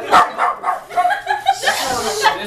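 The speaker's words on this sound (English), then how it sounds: "I think it's a dog." A dog barks in a few sharp bursts close by, mixed in with laughing, excited voices around a birthday cake.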